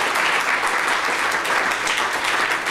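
An audience applauds guests at a formal event, producing a steady, dense wash of clapping at even loudness with no voices over it.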